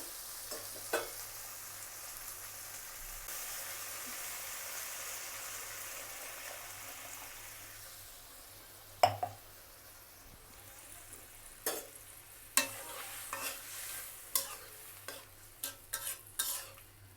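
Prawn and potato curry simmering in a pan after broth is added, a faint, soft sizzle with occasional sharp clinks and stirring scrapes growing more frequent later.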